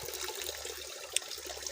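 Cloudy well water running through a homemade DIY filter, a soft steady trickle and splash with a single brief bright drip, quiet and alone.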